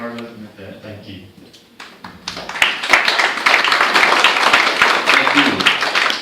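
Audience applause at a county commissioner candidate forum in Alamosa: after a brief spoken lead-in, a crowd breaks into sustained, dense clapping that builds and holds steady for several seconds.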